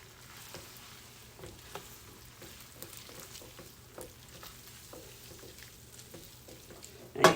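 Hot pasta tossed in a pan for lemon herb chicken with garlic butter pasta, a steady low sizzle with soft scrapes and shuffles throughout, then a louder clatter at the very end.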